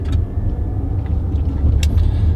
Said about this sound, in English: the electric car is quiet, but you do get electric noises coming out of the vehicle